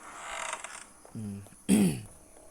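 A door creaks in a horror video game: two drawn-out groaning creaks in quick succession, the second louder, over a quiet background.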